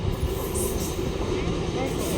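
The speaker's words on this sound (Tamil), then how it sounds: "அந்த தூரமாக தெரியுது, அதான் ட்ரெயின்." Train at a station heard as a continuous broad rumble and rushing noise, steady and fairly loud throughout, with faint voices mixed in.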